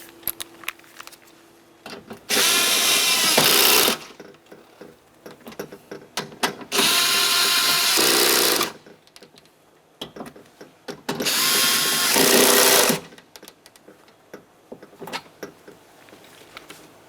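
A power tool snugging window regulator mounting bolts on a 2007-2012 Nissan door, three separate loud whirring bursts of about two seconds each, with quiet clicks and handling noises between.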